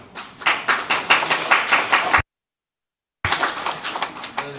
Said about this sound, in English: Thank you for the applause, but please do not applaud so easily.